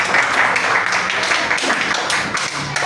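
A classroom of students claps together for a classmate who answered correctly, a dense, steady patter of many hands lasting a few seconds with no pause.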